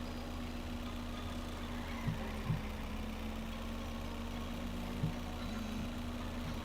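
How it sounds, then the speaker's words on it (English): A van's engine idling in a video game while it parks in a stall: a steady low hum with a faint tonal drone, broken by a few soft thumps, quiet throughout with no talk. "I'm gonna park this van in stall number 1."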